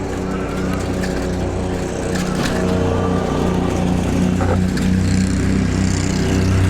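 A Qronge Lava electric trike riding slowly over bumpy rough terrain: continuous loud rumbling road noise with scattered knocks and jolts, steady throughout and close.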